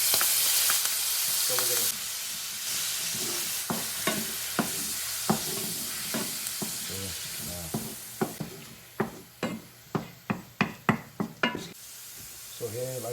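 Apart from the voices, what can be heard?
sauteing sofrito with ham in a pan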